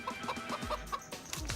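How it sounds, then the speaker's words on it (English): Wild chickens cluck outdoors in a quick, steady series of short clucks at moderate distance, with soft background noise and no talk. "I saw some chickens out here. Wild chickens are good eating."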